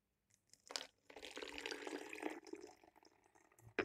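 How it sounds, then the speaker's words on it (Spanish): Water is poured into a jar holding glitter, a soft, close trickle and splash that runs for a few seconds at low volume. "vamos a introducir la purpurina en el frasco y luego vamos a poner un poco de agua"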